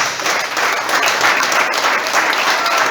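A church congregation applauds steadily throughout, a dense, even wash of many hands clapping at close range with no pauses.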